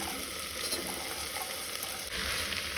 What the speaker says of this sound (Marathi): आले लसणीची पेस्ट घालून तळसून घेवया।